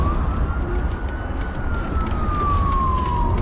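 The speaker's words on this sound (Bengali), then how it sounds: "একটু আগেই একটা সাইরেনের শব্দ পেয়েছি।" A police siren wails steadily over rumbling traffic noise in a horror story, its pitch slowly rising and falling, fairly distant and continuous throughout with no voices.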